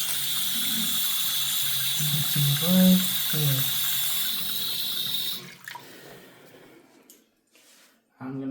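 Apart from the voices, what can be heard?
water leaking from a sink faucet handle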